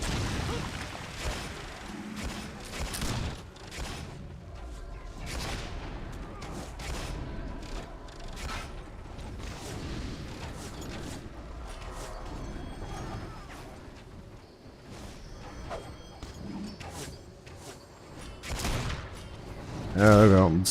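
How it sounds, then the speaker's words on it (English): Artillery pounds an enemy back line in Warhammer Online, scattered booms and crashing impacts spread across a busy battle under intermittent talk, with a louder burst at the very end. "I'm just bombing a little bit the backside there"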